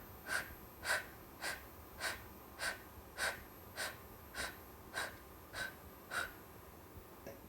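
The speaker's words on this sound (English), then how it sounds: "you should resort to short, panting breaths, like this Bhastrika breathing is sometimes easier through the mouth" Short, sharp panting breaths through the mouth in Bhastrika yoga breathing, about a dozen even, quiet exhalations at a steady brisk rhythm, with no voice.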